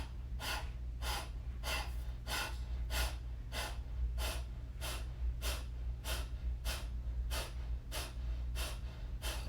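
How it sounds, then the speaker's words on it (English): Kapalabhati breath of fire: a close, steady train of about fifteen rapid, forceful nasal exhalations in an even rhythm, each a sharp puff of air over a low background hum. "It's called Kapalabhati breathing, or skull breath, or breath of fire."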